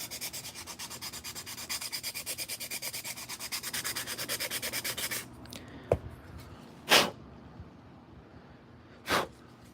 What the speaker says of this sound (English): So I'm just going to sand the bottom